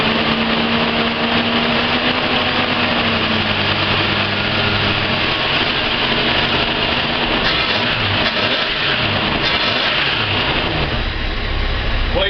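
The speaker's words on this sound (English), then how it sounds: "So yeah, XE Falcon, cold start." A Ford XE Falcon engine cold-starting, running loud and steady with a rough idle, a rising rev partway through and a constant broadband rumble throughout.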